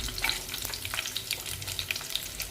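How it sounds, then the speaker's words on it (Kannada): A large chopped onion fries in a pan for sambar, making a quiet, continuous sizzle with scattered small pops and crackles, close but soft, with no voices. "ದಪ್ಪ ಸೈಜ್ ಒಂದು ಈರುಳ್ಳಿ, ಅದನ್ನು ಹಾಕ್ಕೊಂಡು ಕಲರ್ ಚೇಂಜ್ ಆಗೋವರೆಗೂ ನೀಟಾಗಿ ಫ್ರೈ ಮಾಡ್ಕೊಳ್ಳೋಣ"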